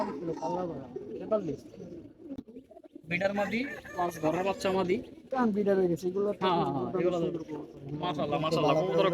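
Pigeons coo in low, throaty bursts close by, mixed with people talking over them through most of the stretch.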